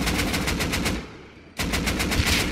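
Automatic weapon fire in the survival game Rust: rapid, evenly spaced shots in two loud bursts, split by a short pause, with no voices.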